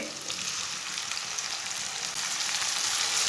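Chopped tomatoes and green chillies fry in a hot pan with a steady, dense sizzle that holds loud and even for a few seconds and swells slightly toward the end, no talking.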